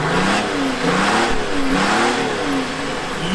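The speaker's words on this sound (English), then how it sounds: "Give it another one then. Rev her up, come on." A Mitsubishi L200 pickup truck engine with a manual pump conversion revs hard several times in quick succession, the pitch rising and falling, loud and close with no talking.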